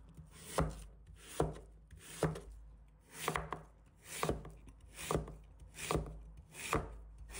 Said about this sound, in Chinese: 再切成薄片，稍微切得薄一点，这样蒸的时候更容易熟。